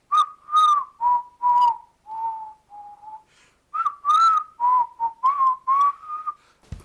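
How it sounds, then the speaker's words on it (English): Melodic whistling from the storybook opening of Disney's animated Robin Hood, a bright, clear tune of short phrases with brief pauses between them, close and solo with no talking. "The storybook opening, the whistling."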